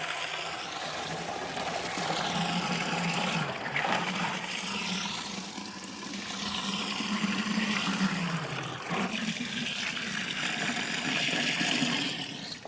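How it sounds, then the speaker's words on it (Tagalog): Water sloshes and splashes steadily as laundry is rinsed in a manual, non-electric washing machine, a continuous churning wash of liquid noise lasting throughout with slight swells and dips, close and fairly loud. "Magbanlaw na po tayo."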